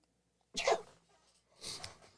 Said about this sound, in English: Excuse me as I sneeze.